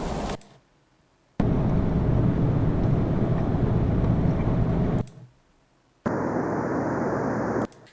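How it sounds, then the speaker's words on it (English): Rustle sleep sound from Bose Sleepbuds II, a broad steady wash of noise that plays for several seconds, stops, then returns with a brighter, thinner texture. "This is rustle."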